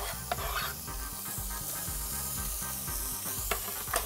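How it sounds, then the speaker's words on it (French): Soft steady sizzling and hissing as onion sweats in butter in a saucepan on the heat, with occasional light stirring taps and scrapes close by. "On va faire fondre donc une partie de l'oignon dans la casserole."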